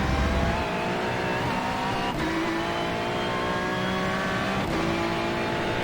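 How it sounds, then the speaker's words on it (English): A race car in the iRacing sim brakes hard and drops down to first gear, the loud engine note droning steadily throughout with brief shifts and no talking. "Makes me just have to slam on the brakes, send it into first gear."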